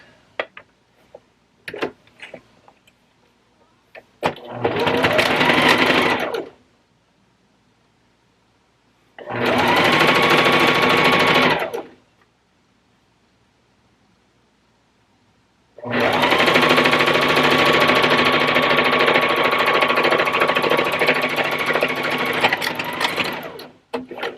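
A sewing machine stitches fabric for reusable Christmas gift bags in three loud, close bursts of fast, even needle chatter. The first two are short and the last runs longer, with quiet handling of fabric in the gaps.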